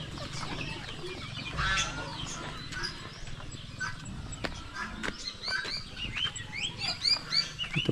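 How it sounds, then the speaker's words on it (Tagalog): Chickens and newly hatched chicks on a backyard farm with turkeys nearby, giving off a busy stream of high peeps and clucks that are close and lively throughout, with a rooster-like call and low background noise underneath. "Sisiw ng manok."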